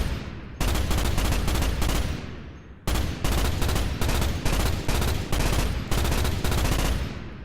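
Sustained rapid weapon fire in a Starship Troopers first-person shooter, a dense continuous burst of shots blasting at bugs, loud and close, with one brief pause partway before the firing resumes.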